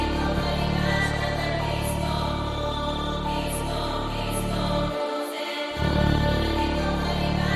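A brass sample pitched down several octaves in FL Studio, producing a thick, droning low tone with a buzzy upper layer, continuous and loud apart from a short dip in the bass partway through; no talking.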